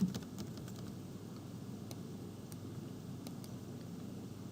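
Someone types a password on a computer keyboard, a few sparse, faint key clicks over a steady low background hum.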